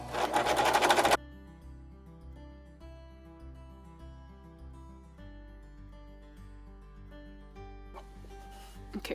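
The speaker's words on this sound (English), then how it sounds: "I'm going to serger on this side." A serger sews fabric for a safety mask, opening with a loud burst of fast stitching before settling into a quieter, steady mechanical hum and whir with soft ticking.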